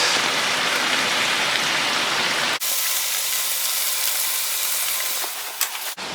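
250 ml of all-purpose cream is poured into a hot pan for creamy bacon pasta, giving a loud, dense rain-like sizzle that cuts off sharply partway, then resumes slightly softer.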